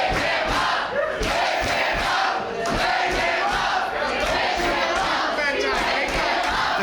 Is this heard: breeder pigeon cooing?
no